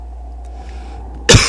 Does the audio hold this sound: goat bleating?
no